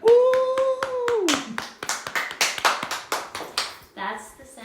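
Hand clapping from a few people close by, sparse and uneven, beginning under a held sung note and tapering into scattered claps before a voice comes in at the end.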